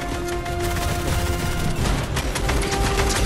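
Gunfire during the Fortnite Collision live event, a dense continuous fusillade of rapid shots with booms and game effects layered over a loud steady battle din.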